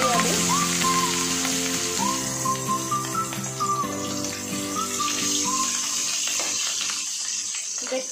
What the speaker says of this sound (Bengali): তেলের মধ্যে পড়ে চরপর চরপর করছে